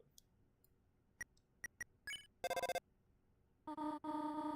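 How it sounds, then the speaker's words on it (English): A telephone rings in the video game Deltarune: a few scattered clicks and short tones give way to bursts of bright, buzzy electronic trilling, fairly close in an otherwise quiet room. "The phone is ringing, but you can't get it."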